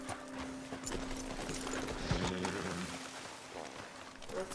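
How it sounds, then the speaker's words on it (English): Horse hooves clip-clopping steadily in Red Dead Redemption 2, a brisk rhythmic trot of repeated hoof strikes at close range over a low ambient game backdrop. "It's a nice horse. Looks like a freaking unicorn."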